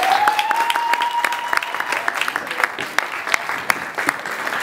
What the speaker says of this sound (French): Acclamez-les s'il vous plaît.